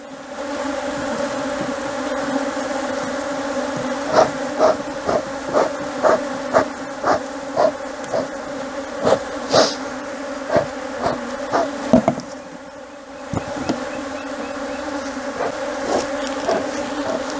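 Honeybees swarm around an open beehive as honey supers are added, a dense continuous buzz close by with a run of short, soft knocks and taps over it and no talking.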